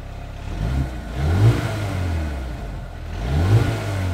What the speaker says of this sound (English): 2-litre turbos never sound great, but let's see what it sounds like